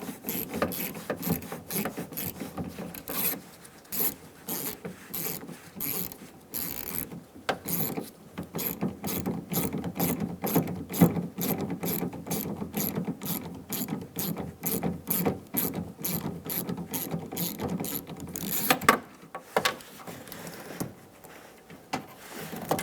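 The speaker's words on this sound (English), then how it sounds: "Using a T20 bit, we're going to remove the screw for the lock cylinder cover." A ratcheting driver with a T20 bit backs out the lock cylinder cover screw on the front door of a 2000-2007 Ford Focus. The rapid, steady clicking runs close and continuous for about twenty seconds, then slows and stops, with no talking.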